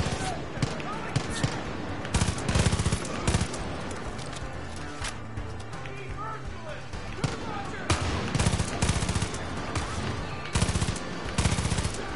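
Rapid bursts of gunfire in Far Cry 5 co-op crackle and rattle throughout, some sharp single shots among fuller volleys, with game effects layered in the background.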